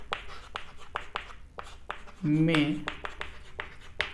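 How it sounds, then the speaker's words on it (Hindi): Chalk or marker strokes tap and scrape on a board in quick, evenly spaced strokes during a Hindi-language physics lecture on capacitors, with a voice speaking over the writing. "हम लिखेंगे संधारित्र"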